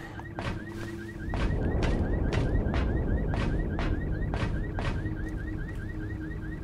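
Alarm ringing in the video game Dead Island Riptide, a repeating electronic warble that pulses steadily and loudly over a dense bed of game noise for the whole stretch.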